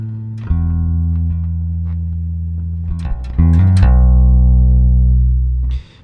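Electric bass guitar playing the line of the worship song On The Cross at full speed: sustained, droning low notes that change pitch several times, loud and close, with no talk.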